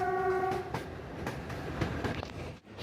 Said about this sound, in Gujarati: તો હવે આપણી ટ્રેન જૂનાગઢથી ઉપડી ગઈ છે અને આ વેરાવળ જાય છે